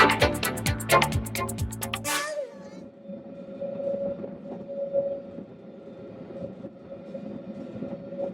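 A train with a snow plough on its front runs on the Bernina railway in winter. A loud burst of clattering wheels gives way after about two seconds to a steady rolling rumble and hum, with a faint tonal whine throughout.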